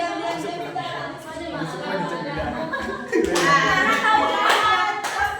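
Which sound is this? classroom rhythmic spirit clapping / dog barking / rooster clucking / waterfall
classroom rhythmic spirit clapping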